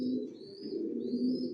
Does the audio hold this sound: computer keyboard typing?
no